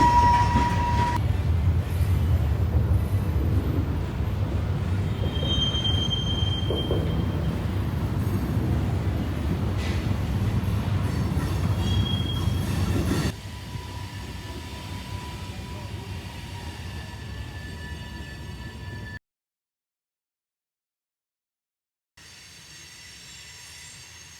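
A train rumbles steadily across a bridge with clattering wheels and occasional high squeals, loud and continuous, then briefly cuts to silence before resuming faintly.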